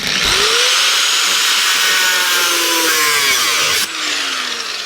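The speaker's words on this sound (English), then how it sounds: "which I'm just going to cut through this bit with a disc" An angle grinder disc shrieks through spot welds on the bulkhead of a VW T5/T6 panel van, a loud, sustained whine whose pitch sags under load before dropping off near the end.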